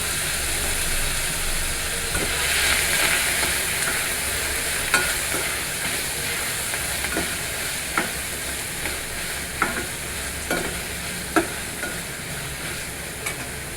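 Chopped onions sauté in a hot pan, a constant sizzle with a spoon scraping and knocking against the metal several times as they are stirred.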